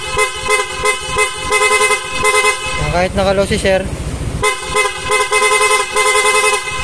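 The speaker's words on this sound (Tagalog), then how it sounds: "Tapos ito yung rapid horn." Rapid horn honking from a Yamaha Sniper 155 motorcycle fitted with a Motoflute horn, sounding in quick repeated toots before and after a short stretch where someone talks over it, loud and close.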